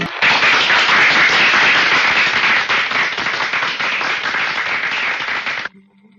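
Dense, loud audience applause swells at once, holds steady for several seconds, then cuts off abruptly into near silence.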